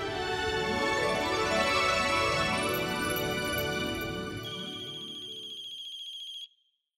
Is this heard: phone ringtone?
yes